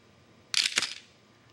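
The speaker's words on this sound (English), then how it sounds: "Now watch how long the shutter is open." Camera shutter firing at a slow speed of about 1/8 second: a sharp mechanical opening click followed shortly by a second closing click, the pair close and fairly loud against a quiet room.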